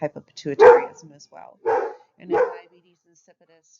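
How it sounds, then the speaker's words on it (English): A pet dog barks indoors in several sharp bursts, reacting to someone walking outside, while a person keeps speaking over and between the barks. "sorry about my dog. She's decided somebody's walking outside."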